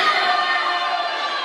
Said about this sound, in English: I love the cheer squad on the other side of the pool here.